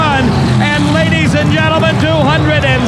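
A 1984 Ford funny car drag race, both cars launching side by side at full throttle, a loud, continuous engine roar with rising harmonic whine filling the whole stretch, close and overpowering, with a commentator's voice faintly underneath.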